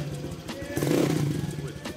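A Honda Vario 150 scooter fitted with a racing exhaust revs up close by, its rough engine roar swelling loudly for about a second and then holding steady.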